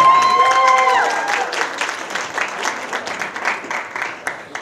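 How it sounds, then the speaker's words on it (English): Audience applause at a summer jobs program awards ceremony: steady clapping from a crowd, loudest at the start and thinning slightly over nearly five seconds, with brief speech early on. "Clap it up for her. Come on, clap it up."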